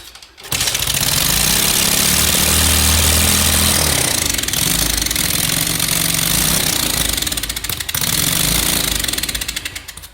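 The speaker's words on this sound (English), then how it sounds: "A lot less backfiring this time." A Lifan 125cc minibike engine, swapped into an Amstar Rocky 49, runs loud and close with a rough, rapid chugging putter and occasional sharp backfire pops, after starting abruptly and revving unevenly throughout.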